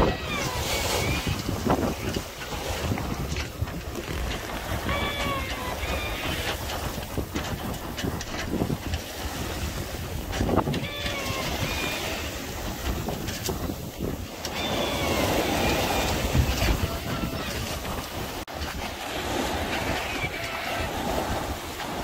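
Steady wind and water rushing past the hull of a small Albin Vega sailboat under sail along the south coast of Sweden, a continuous broadband wash with gusty swells and faint creaks throughout.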